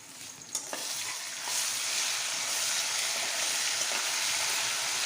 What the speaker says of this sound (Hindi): आप इसमें ज़ीरा डाल रही हैं, वाइट वाला। ये इतना हम ये डालेंगे इसके अंदर। और लहसुन अदरक का पेस्ट ऐड कर रही हैं।